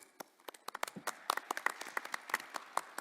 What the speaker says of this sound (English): please welcome Dr. Klein with a big applause